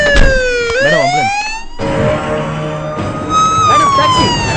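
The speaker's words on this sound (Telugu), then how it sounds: "Madam ambulance." An ambulance siren wails loudly and close in a film scene, its pitch sweeping up and down in repeated cycles.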